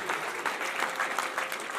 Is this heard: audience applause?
yes